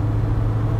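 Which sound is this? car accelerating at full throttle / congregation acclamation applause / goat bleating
car accelerating at full throttle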